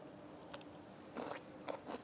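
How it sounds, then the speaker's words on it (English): Crunching bites of vegetables from a Taiwanese ramen meal, a few quiet crisp crunches close to the mic at a low level, with no talking. "Can you hear the crunch?"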